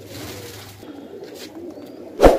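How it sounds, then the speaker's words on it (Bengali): Saharanpuri baby pigeons give soft, low coos nearby in a quiet space, ended by one sharp loud knock. "এই যে অনেকগুলো কবুতর বেবি, এখানেও আছে কবুতর"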